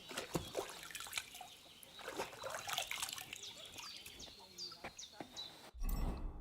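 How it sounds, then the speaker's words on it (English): In the video game Kingdom Come Deliverance 2, a character washes with water, soft splashing and trickling drips close by, with faint birdsong in the background. "So if I wash myself..."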